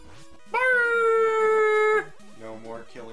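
A synthesized dog howl from the Mega Man 6 video game holds one long, loud, steady tone for about a second and a half, framed by chiptune game music.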